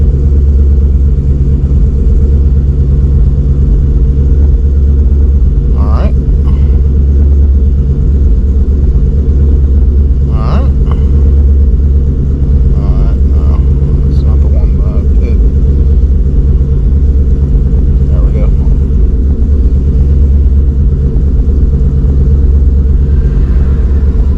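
Big-cammed Ford Coyote 5.0 V8 idling on E90 fuel, a loud, steady, low rumble with a choppy lope that holds throughout, with occasional faint higher clatter.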